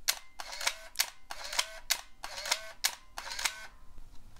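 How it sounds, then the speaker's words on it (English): Motor wind of a Nikon F60 35mm film camera firing in continuous mode, a run of about eight loud, close mechanical whirring shutter-and-advance bursts at a slow, steady pace, with no voices. "You can see that's quite a noisy motor wind"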